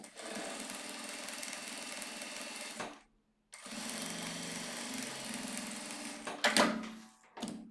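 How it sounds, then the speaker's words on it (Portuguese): A sewing machine stitches a fabric wallet pocket in close, steady whirring runs, pausing briefly midway before resuming, ending with a few louder clunks. "Passo uma costurinha aqui agora."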